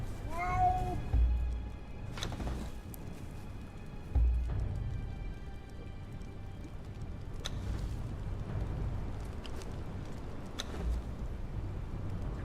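A cat in the game Conan Exiles gives a short, faint meow near the start, followed by a long stretch of low ambient game noise with scattered soft clicks and thumps.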